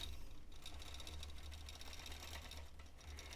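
Sewing machine stitching a Christmas tree skirt during free motion quilting, a steady, close, continuous motor hum and rapid needle chatter running throughout without pause.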